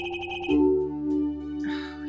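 A payphone rings in Apollo Justice: Ace Attorney, a short electronic ringtone trilling in quick repeated bursts before a swelling musical tone takes over, with no talking.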